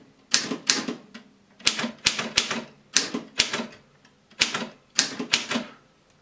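Clacking keystrokes on a manual typewriter, a Torpedo 18B or Alpina SK24, coming in quick bursts of several strikes separated by short pauses, close and crisp.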